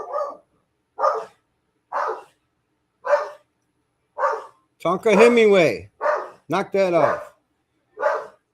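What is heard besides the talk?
dog barking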